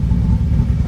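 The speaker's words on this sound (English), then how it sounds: "So this is cold start, which is where it was the worst before. So we'll get it started up. Quite a bit of a rumble" A BMW E36 M3 engine idles on a cold start with a misfire issue, giving a loud, low, steady rumble up close with a slightly uneven throb and no talking.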